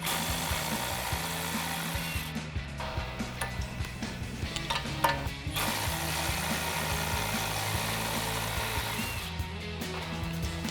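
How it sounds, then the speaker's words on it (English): An impact wrench spins out the brake caliper bracket bolts on a 2020-2026 Chevrolet Silverado 2500, whirring continuously up close with rapid ticking and clatter from the tool. "we'll come back in with our impact and run these out"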